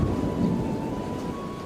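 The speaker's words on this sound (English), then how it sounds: "See, that was a thunder chain-in right there." Thunder sound clip played on a stream: a steady low rumble of thunder over continuous rainfall, loud and sustained throughout with no voices.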